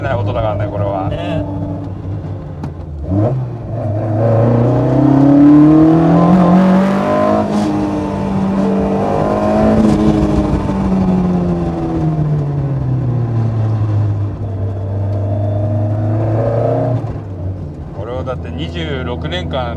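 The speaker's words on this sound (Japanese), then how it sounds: "これはやっぱ昔の車でないと味わえない音だからね" Vintage Toyota Sports 800 engine with loud intake roar dominating over exhaust while driving, revving up and easing off in long rising and falling sweeps, heard from inside the car with people talking over it.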